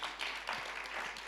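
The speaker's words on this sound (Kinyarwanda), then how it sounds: "mukomera amashyi gusa" An audience at a religious gathering claps together in a short, quiet burst of dense, steady applause with no clear individual claps standing out.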